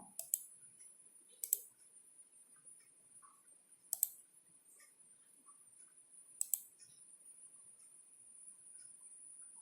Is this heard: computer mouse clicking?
yes